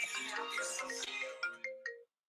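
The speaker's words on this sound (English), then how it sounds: "Oh God, my dad's calling me right now" A phone ringtone for an incoming call plays a bright melodic tune of ringing notes, close and clear, then three short separate tones before it stops abruptly.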